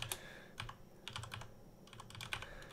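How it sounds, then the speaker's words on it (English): Soft, close clicking of keys on a computer keyboard, typed in short quick bursts with brief pauses between them, faint and without any talk. "So I'm just going to type out my letters here."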